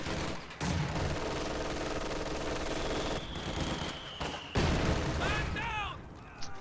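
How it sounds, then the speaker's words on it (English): Light machine guns rattle in bursts during a real-time strategy match, distant steady fire layered with explosions and battlefield din while a commentator talks over it. "LMG guns wipe the squad."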